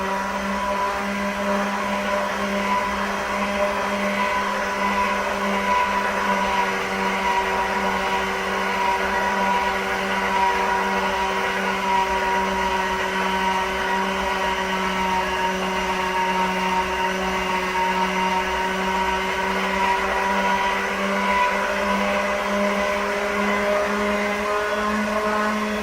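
An electric pasta machine rolls pierogi dough on its widest setting, giving a steady motor hum with strong tonal whine that runs unbroken and fairly loud with no voices.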